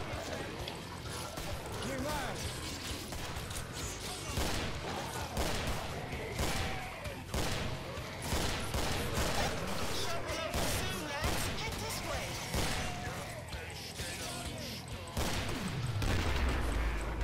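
Repeated loud gunshots and fusillades from the video game Killing Floor ring out over dense combat noise, with players talking over the shooting.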